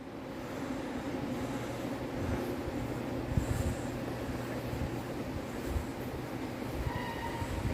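A Metro-North commuter train sits in Grand Central station in Manhattan with a constant loud rumble and hum, broken by occasional clanks and a few brief high squeals.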